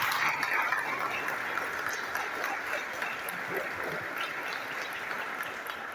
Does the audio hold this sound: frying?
no